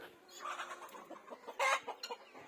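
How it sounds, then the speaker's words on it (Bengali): Farm chickens near netted cages cluck and squawk in agitated bursts, with one louder cry near the end, all at moderate distance and fairly quiet. "মুরগিগুলো চিল্লাচ্ছে কেন যেন"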